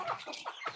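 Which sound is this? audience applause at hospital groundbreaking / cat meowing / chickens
chickens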